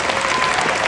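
Audience applause at a University of San Diego law school graduation ceremony, a dense, steady wash of many hands clapping in a large hall.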